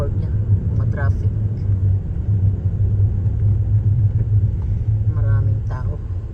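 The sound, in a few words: road traffic in California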